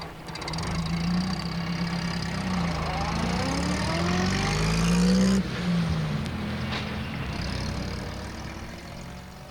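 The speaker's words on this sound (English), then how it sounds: "Pat started up his van." Postman Pat's van starting up and running, its engine turning over and then revving with a rising and falling pitch before settling into a steady run, fairly close and alone.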